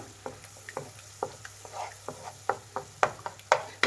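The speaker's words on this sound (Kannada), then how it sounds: "ಈಗ ನೋಡಿ ಮೊಟ್ಟೆನ ಚೆನ್ನಾಗಿ ಫ್ರೈ ಮಾಡಬೇಕು ಹುಡಿ ಹುಡಿಯಾಗಿ" Eggs frying and being scrambled in a hot pan for street-food style egg noodles, with a steady sizzle and repeated sharp scraping clicks of the spatula stirring, fairly close and with no talking.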